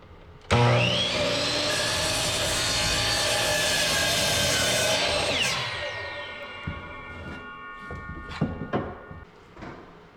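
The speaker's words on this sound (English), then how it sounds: "using a solid piece of oak, I cut out filler pieces to put on either side of the small cabinet." A power saw cuts through a solid oak filler piece for a small garage cabinet, a loud sustained whining buzz that winds down as the blade slows, followed by a few knocks and handling sounds.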